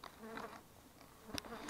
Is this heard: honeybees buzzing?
yes